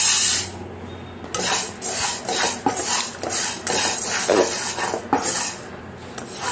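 Moong dal being dry-fried and stirred in a pan makes a busy, close scraping and rattling of a utensil against metal, with steady rhythmic strokes and gritty rustling of lentils, no talk.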